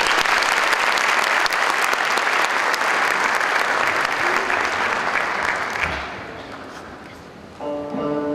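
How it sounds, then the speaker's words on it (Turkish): Loud, sustained applause from a concert audience at a Turkish classical song concert, thick and continuous for several seconds before fading, then a tonal musical sound begins. "Alkışlarınız Türkeş siz için olsun"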